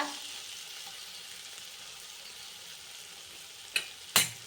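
Tomatoes sautéing in a pan for tomato rice give a steady soft sizzle throughout, then two sharp clatters near the end as a utensil stirs; no one speaks.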